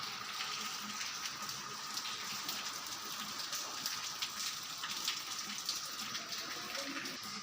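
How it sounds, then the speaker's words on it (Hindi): Heavy monsoon rain falls during a power outage in early August, a dense, steady hiss of drops pattering on surfaces that continues without a break, moderately loud and close. "कल रात से लाइट भी नहीं है और बहुत भारी बारिश है"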